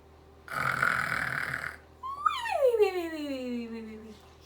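A voice imitates a bear snoring, first a long rasping inhaled snore, then a brief pause and a drawn-out, wavering, falling snort that trails off.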